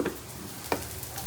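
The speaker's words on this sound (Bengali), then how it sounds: "কদমে এখানে কচুরি ভাজা চলছে।" Kachori frying in hot oil at a busy street food stall, a soft steady sizzle under faint background chatter, with a couple of sharp clinks from the utensils.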